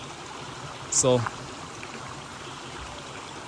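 River water flowing steadily in the morning along a Jamaican riverbank where residents do sand mining, a constant watery rush throughout with a brief spoken word near the start.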